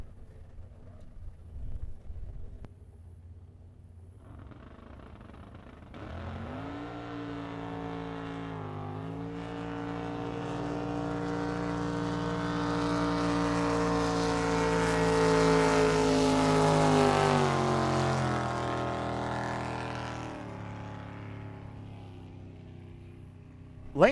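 Outboard drag boats racing a pass at a drag boat finals in Paris, Texas, engines rising in pitch as they accelerate from a distance, growing louder to a sustained high whine, then fading away.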